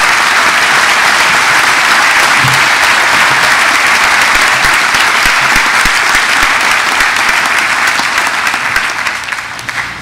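A large audience applauds steadily and loudly for about ten seconds, welcoming a returning speaker to the stage at a 2013 Sewickley Academy graduation ceremony, the clapping tapering slightly at the end.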